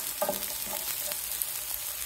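Garlic and chili sizzle in hot oil while browning, a steady close hiss broken by a few soft crackles and stirring scrapes.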